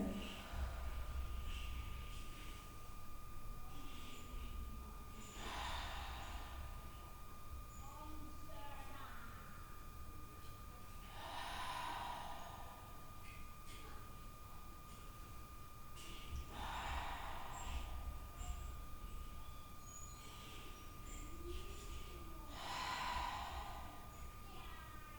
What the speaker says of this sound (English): Maybe close the eyes, just take 5 full deep breaths here.